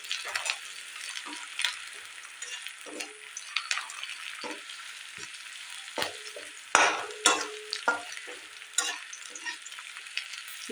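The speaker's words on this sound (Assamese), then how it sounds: "মই এইখিনি ভালকৈ ভাজি ল'ম" Food with a split green chilli frying in a pan for a curry, a close, steady sizzle broken by irregular scraping and clinking stirs of a spatula, no voices.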